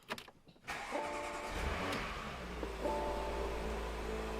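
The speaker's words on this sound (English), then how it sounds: "let's go ahead and crank the car up and let's see if we don't get any issues." A Porsche Macan S with a Cobb Stage 1 tune cranks and fires up after a brief starter whir, then settles into a steady, close idle with a slight rise in revs.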